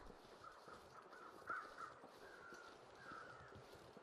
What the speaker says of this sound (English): Looking for the crows, I hear them.